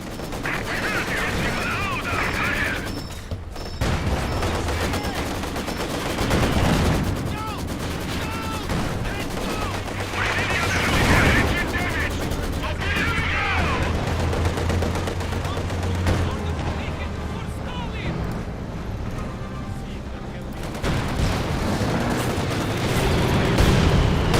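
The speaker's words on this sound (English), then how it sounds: "Enemy fire!" Heavy gunfire and artillery in a video game battle, with repeated shots, bursts and booms rattling throughout, loud and continuous, while a voice talks intermittently over the combat.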